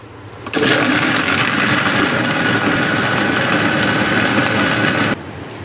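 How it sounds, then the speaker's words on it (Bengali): A mixer grinder blends chocolate milkshake with ice cubes: a loud, steady, close whirring roar that starts abruptly, runs about four and a half seconds, then stops. "এটাকে আমি মিক্সিতে ঘুরিয়ে নিচ্ছি"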